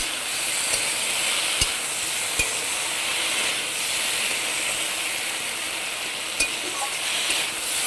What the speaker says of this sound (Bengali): মশলাটা একসাথে ভেজে নেব ভেন্ডিটার সাথে।